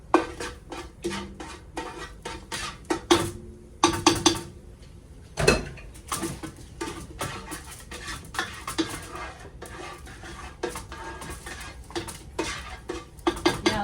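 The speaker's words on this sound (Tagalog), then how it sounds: "ato siyang lutuon ang atong bawang, atong gisahon" Garlic is sautéed in a pan with busy metallic scraping and clinking of a spoon against cookware, in irregular bursts close by.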